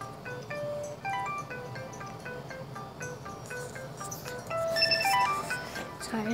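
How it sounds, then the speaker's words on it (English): A phone ringtone plays in the background as a rapid, repeating melodic pattern, fairly faint and steady throughout, with a brief louder passage near the end. "Sorry for the ringing in the background,"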